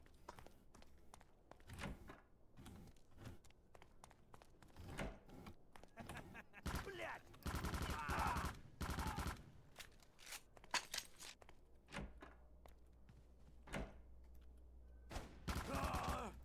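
Shotgun blasts from enemy soldiers in the game Soldier of Fortune: Payback, several sharp bursts in a loud, dense stretch around the middle, scattered among footsteps and other thumps, with some speech mixed in.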